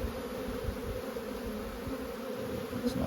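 Honey bees buzz at an opened hive, a continuous dense hum from the colony close by, steady and unbroken with no voices.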